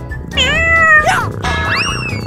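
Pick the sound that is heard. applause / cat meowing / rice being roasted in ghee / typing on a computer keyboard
cat meowing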